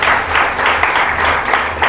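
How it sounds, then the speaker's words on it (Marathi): A church congregation bursts into loud, vigorous applause during a sermon, many hands clapping in a thick, continuous roar that stays strong and close for the whole stretch. "एकदा जोरदार टाळ्या वाजल्या नाही का?"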